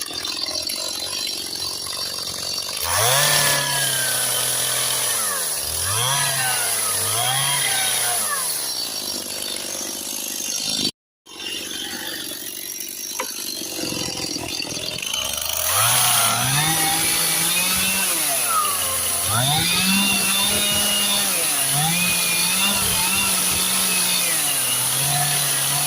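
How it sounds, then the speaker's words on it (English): Chainsaw cutting into a tree trunk to flatten rest spots for ladder rungs, idling then revving repeatedly in loud bursts with pitch dips as it bites the wood, a brief cutout midway, close and alone. "I'm going to mark up with the chainsaw"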